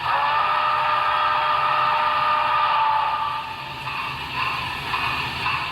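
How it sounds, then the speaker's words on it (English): Steaming whistle of a Broadway Limited HO-scale model Union Pacific Challenger 3977 steam locomotive with Paragon 3 sound, a steady, layered, breathy whistle tone sounding alone before it trails off into quieter hiss. "that whistle is a steaming whistle, which is just like the real things"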